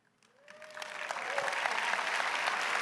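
Conference crowd applause swelling from quiet to a loud, steady roar of clapping that fills the hall after a motivational speaker's thanks.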